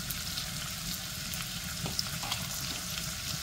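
Boiled greens being stirred into a hot pan with fried shrimp, giving a steady, close sizzle and frying crackle with soft stirring scrapes throughout, no voices.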